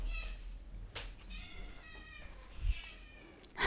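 A domestic cat begs for food indoors with several drawn-out meows, one near the start and a longer wavering call in the middle, all fairly faint against quiet room background.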